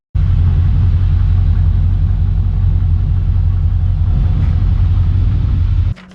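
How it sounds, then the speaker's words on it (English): A 1955 Chevrolet 3600 street truck with headers and dual Cherry Bomb exhausts rumbles loud and close in a deep, steady burble that stays constant and then cuts off abruptly near the end. "This motor's got a great sound, it's taking off at the red lights"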